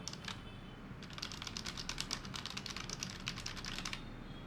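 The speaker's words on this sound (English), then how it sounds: "I can type it here." Quick, steady typing on a Flipkart K931T Bluetooth wireless keyboard connected to an iPad, a run of light clicky keystrokes close up and fairly quiet, with no voices.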